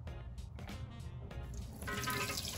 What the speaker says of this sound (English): Then we're going to strain the split peas.